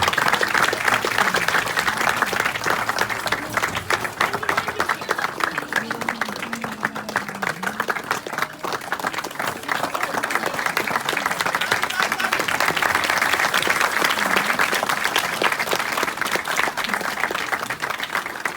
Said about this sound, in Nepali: अलि ताली बज्दै गर्नुपर्छ।